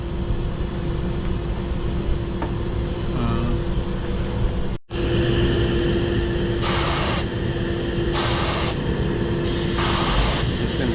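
Spray gun laying down Awlcraft 2000 paint while spot painting a hull, a steady close hiss broken by one short pause, then several bursts of stronger spraying over a constant background hum.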